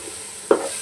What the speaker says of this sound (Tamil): நல்லா கலக்கி விடுங்க.